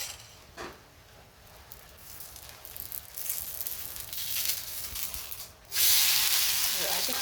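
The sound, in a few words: oil sizzling on fasting dosa on pan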